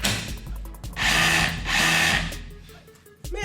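A DeWalt power tool running on a 20 volt max battery, two loud whirring bursts close by, spinning up and winding down, with a brief clunk at the end.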